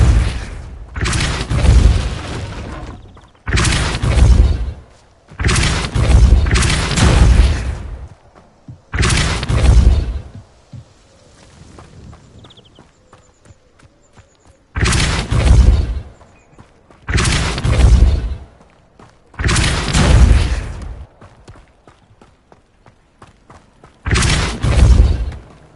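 Incendio and Repulsor spell blasts from the Hogwarts Legacy video game, loud booming bursts with crackling, shattering edges that fire in dense clusters separated by brief, quieter gaps.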